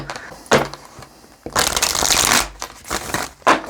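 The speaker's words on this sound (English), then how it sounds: "I don't know why I'm shuffling the tarot there." A deck of tarot cards is shuffled by hand, close and clear. Several bursts of riffling and sliding card noise are broken by short pauses, with one longer shuffle in the middle.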